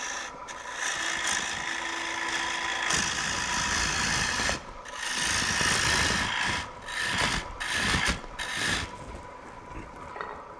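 Gouge cutting a tenon shoulder on a wood lathe at a woodturning event, a steady close rasping and scraping of the tool on spinning wood, broken by short pauses as the cut is eased off and resumed.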